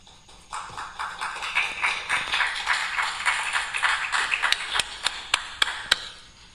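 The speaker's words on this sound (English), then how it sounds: "applause to all of the speakers" Mourners at a memorial gathering break into soft applause for the speakers. It swells, then thins to a few sharp, isolated claps at the end.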